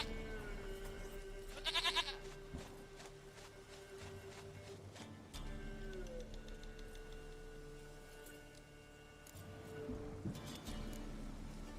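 A goat in the Witcher 3 video game lets out a couple of nasal, wavering bleats, one sharper cry near the start and another later, over quiet game ambience with a faint ticking.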